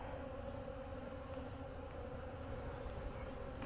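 Honey bees buzz angrily around an opened hive with bubbled-out honey frames, a dense, steady droning swarm hum filling the space continuously without pauses, fairly loud and close.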